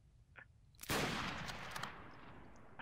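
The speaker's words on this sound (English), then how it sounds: "I hear bullets whizzing past." Gunfire and bullets whizzing past in a video game: a sudden loud burst of shots at about one second, then a sustained dense crackle of fire that stays close and loud to the end.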